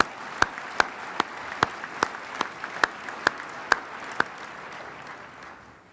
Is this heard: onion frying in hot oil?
no